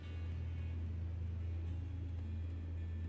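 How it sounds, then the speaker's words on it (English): Dump truck engine in the Gold Rush mining video game idles steadily, a constant low droning rumble with no talk. "dump truck on? Sounds like it is."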